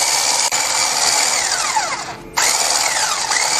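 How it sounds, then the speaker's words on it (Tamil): Butter beaten with an electric mixer while making an oven-free sponge cake: a steady, loud motorized whir with shifting pitch sweeps and a brief dip near the middle, heard alone without talk. "இந்த பட்டரை பீட் பண்ணணும்."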